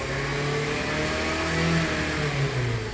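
A 2013 Honda CR-V engine with a stretched timing chain revs steadily near 3,000 RPM, a loud, continuous mid-pitched drone with a rising and falling harmonic whine, close up and with no talk.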